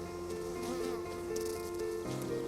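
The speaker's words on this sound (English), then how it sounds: "You're covered in bees." Honeybees swarm around beekeepers in protective suits, a continuous droning buzz of many insects close by, with soft wingbeat patter and no talk.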